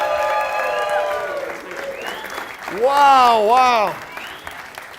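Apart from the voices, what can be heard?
audience applause and cheering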